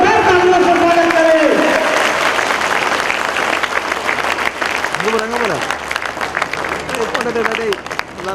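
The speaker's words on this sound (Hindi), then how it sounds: "आप लोग जोरदार तालियों से स्वागत करें।" A crowd at a workers' union conference gives loud, sustained applause to welcome a guest, while an amplified voice speaks over the clapping.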